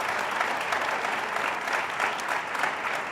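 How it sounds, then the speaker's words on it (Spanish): Steady applause from a studio audience at a podcast recording fills the full three seconds, a dense, even patter of clapping hands with slight pulses and no voices over it. "Aplauso para los dos."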